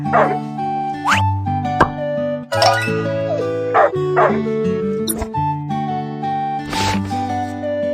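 A cartoon puppy with an injured, fractured leg yips and barks in short bursts over a busy, cheerful children's music bed, with several sharp yelps spread across the stretch.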